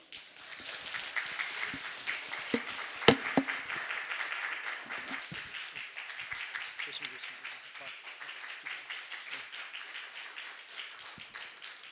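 Church congregation applauding during a Wednesday dedication worship service as the pastor comes forward, steady mid-level clapping throughout with a sharp louder clap near three seconds and voices talking underneath.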